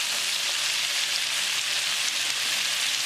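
Popcorn fish pieces deep-frying in hot oil, a steady, dense sizzling and crackling hiss that holds at an even level throughout.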